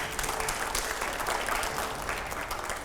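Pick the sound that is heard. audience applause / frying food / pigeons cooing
audience applause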